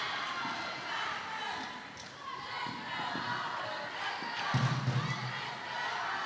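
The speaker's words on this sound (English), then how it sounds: "The crowd are going wild," Crowd noise at a Sheffield Varsity university basketball game, a steady roar of cheering with a swell near the end, while a commentator talks over it.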